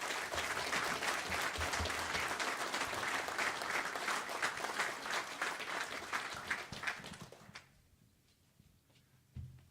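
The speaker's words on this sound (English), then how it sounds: "Give this whole group a big round of applause." A banquet crowd for a driver development program claps in a loud, sustained round that thins out and stops near the end, leaving a few scattered claps and faint room noise.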